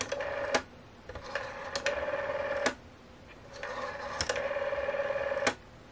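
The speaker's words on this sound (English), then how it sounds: "It's a little different, but it's the same kind of thing, the rotary phone." An old rotary phone dial whirs back after each pull, a repeating mechanical buzzing and ticking that stops with sharp clicks, several turns in a row heard close up without talk.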